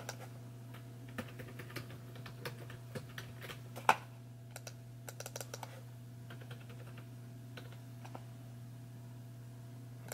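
Quiet typing on a computer keyboard while filling in checkout details: scattered soft key clicks in irregular bursts, with one sharper keystroke and a steady low electrical hum underneath.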